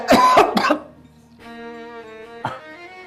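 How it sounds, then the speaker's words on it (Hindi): A couple of harsh coughs up close, then a sustained tonal background with another short cough-like burst. "बहुत तेज खांसी हो रही है मुझे"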